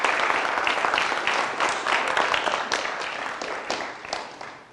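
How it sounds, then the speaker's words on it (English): An audience claps in a dense, steady burst of applause that slowly fades, with no one speaking over it. "can we give our speaker another round of applause?"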